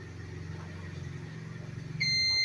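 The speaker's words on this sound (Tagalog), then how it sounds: "May timer yan pag ng 15 seconds tutunog siya." An electronic timer set for 15 seconds goes off with a sharp, high, steady beep near the end, after a low background hum with no talk.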